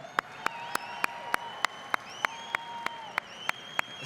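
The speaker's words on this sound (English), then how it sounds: "Let's give one more round of applause to Congressman Gates." Convention crowd applauding a congressman at a state Republican gathering: a soft bed of distant clapping punctuated by evenly spaced sharp, loud claps in a steady rhythm, with faint tonal sounds drifting over it.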